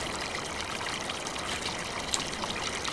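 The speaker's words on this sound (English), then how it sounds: "Is this, ooh, running water?" Steady running water from a stream in the Farm Simulator 15 video game, a continuous trickling and babbling flow heard alone at moderate level without a break.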